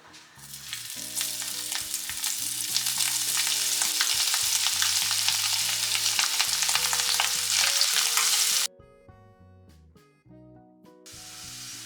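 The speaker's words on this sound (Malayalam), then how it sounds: "ഞാൻ വെളിച്ചെണ്ണയിലാണ് ഫ്രൈ ചെയ്യുന്നത്." Mussels fry in hot coconut oil for a Thalassery-style mussel biryani, a loud, steady crackling sizzle with background music underneath, stopping abruptly near the end and leaving only the music.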